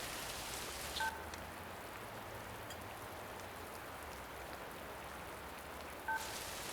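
Two short dual-tone telephone keypad beeps, one near the start and one near the end, over a steady patter of rain.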